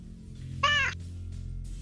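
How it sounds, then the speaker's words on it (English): A house cat meows once, a single close, clear drawn-out cry in an otherwise quiet room with faint background hum. "I hear a cat."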